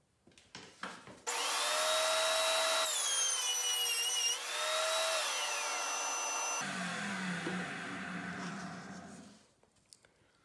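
A Cutech planer roars through a pass on figured cherry wood with a vacuum running, a loud sustained whine with shifting pitch after a few clicks, then winding down to quiet.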